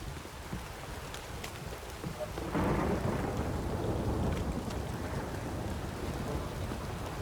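Steady rain pours and a deep rumble of thunder rolls in during a storm in The Witcher 3, the downpour hissing throughout and swelling louder as the thunder builds midway.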